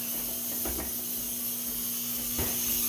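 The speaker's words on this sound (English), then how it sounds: "And now that my steam's going, turn it off." An espresso machine's steam wand hisses while heating about 4 ounces of milk for a double shot. The hiss is steady and continuous under a low hum, with no voices.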